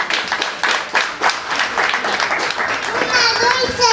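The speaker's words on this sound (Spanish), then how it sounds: "Un fuerte aplauso para estos pequeñitos." Clapping from an audience at a kindergarten event in Xayacatlán de Bravo, Puebla, bursts of hands mixed with children's voices and adult speech, the applause building toward the end.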